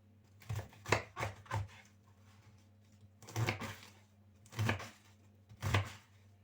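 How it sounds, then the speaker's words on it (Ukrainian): Knife chopping cabbage on a board into large squares for a spring salad, crisp cuts in quick clusters of three or four, with pauses between, close and clear, no talking. "І ріжемо на такі величенькі квадрати"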